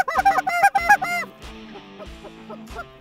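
A flock of Canada geese coming off the roost honks loudly and close over a decoy spread in Alberta, with overlapping calls packed into the first second, then fewer, spaced honks.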